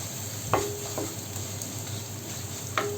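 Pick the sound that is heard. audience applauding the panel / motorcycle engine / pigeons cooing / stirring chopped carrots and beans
stirring chopped carrots and beans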